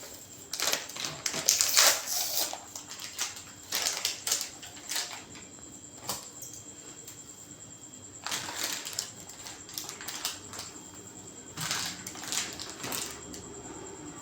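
Screws being undone while assembling a Bambu Lab A1 3D printer: short, sharp metallic clicks and ticks in irregular clusters, close and fairly quiet, with no talking.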